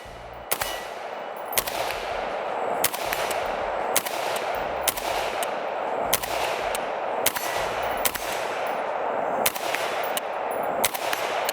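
An unsuppressed 5.56 rifle fitted with a flash hider fires about eight sharp shots at steady intervals of roughly a second and a half, each a loud, close crack over a constant background hiss, with no talking.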